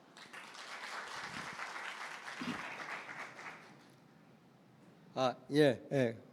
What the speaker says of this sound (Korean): 정무권 선생님을 뜨거운 박수로 환영해 주시기 바랍니다.